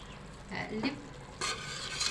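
Spinach stirred in a cooking pot with seven-spice and black pepper: quiet, soft scraping and brief sizzle bursts, with a louder hissing surge near the end.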